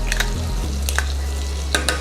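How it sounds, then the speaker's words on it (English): Two garlic cloves sizzle in a frying pan for a creamy Tuscan chicken dish, a close steady frying hiss with a few clinks of a utensil against the pan. "I'm now going to put the garlic in there, 2 cloves of garlic"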